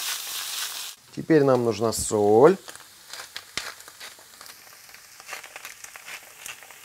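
Chanterelle mushrooms and onion fry in a pan with a crackling sizzle and the scrape of stirring. A person speaks briefly over the start, then the frying carries on quietly.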